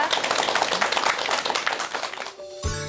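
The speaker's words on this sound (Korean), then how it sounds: "큰 박수 부탁드립니다." A lecture audience applauds with dense, steady clapping that stops abruptly near the end, followed by a brief sustained musical tone.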